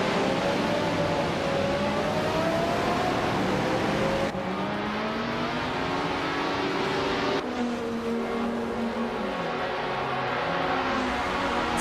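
A 1973 Ford Escort Mk races in a video game, its engine droning steadily and shifting pitch through gear changes, with other race cars close by and no talk.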